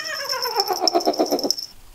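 A cat yowls loudly and close by in one long, wavering, drawn-out cry that rises and pulses for nearly two seconds before it cuts off.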